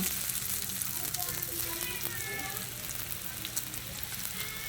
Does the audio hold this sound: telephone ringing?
no